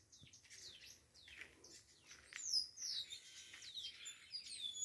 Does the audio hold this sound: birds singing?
yes